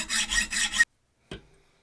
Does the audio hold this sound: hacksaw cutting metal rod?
yes